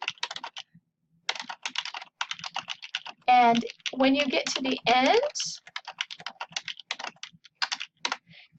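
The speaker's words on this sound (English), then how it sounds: "that you're doing kind of a flow of typing" Steady flowing typing on a computer keyboard, a dense run of quick close key clicks going on throughout while a voice speaks briefly over it.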